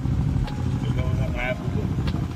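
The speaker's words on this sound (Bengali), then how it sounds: "এই যে একটা নৌকা বেরোলো" A motor boat passes on the river at Nabadwip at night, its engine a steady mid-pitched hum and drone, with faint background voices.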